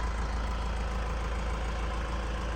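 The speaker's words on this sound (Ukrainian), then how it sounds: "Слухайте, як працює двигун." A 2013 Honda CR-V 2.2 diesel engine idles with a steady low rumble and even mechanical chatter, close and constant throughout.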